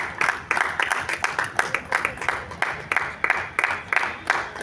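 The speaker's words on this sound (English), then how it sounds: "A big round of applause." A small seminar audience claps in a round of applause, with rapid uneven hand claps forming dense repeated bursts, fairly close and steady, with no talk over it.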